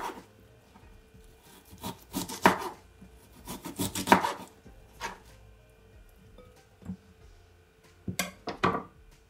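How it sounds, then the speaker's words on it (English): Knife cutting ginger on a cutting board in a home kitchen, a series of separate crunchy, scraping slices in uneven bursts with quiet pauses between them, close and fairly clear. "I'm also gonna cut my ginger"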